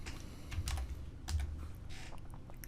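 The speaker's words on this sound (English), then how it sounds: "I'm going to type in email at the top here." Quick, light clicking of keys on a computer keyboard, close and fairly soft, in short irregular bursts with no talk.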